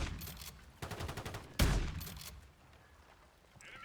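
Bursts of gunfire from the Bryson 890 in a first-person shooter game, a run of rapid shots followed by a sharp loud blast at about 1.6 seconds, then a fading tail and quiet game ambience.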